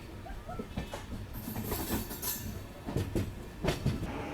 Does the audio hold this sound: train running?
yes